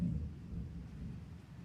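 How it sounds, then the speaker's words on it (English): Low rumbling thunder rolls steadily through a heavy pouring rainstorm, a continuous deep murmur that stays fairly quiet and distant throughout, with no voices. "I hope the thunder isn't coming too loud through on this, because it is pouring rain right now."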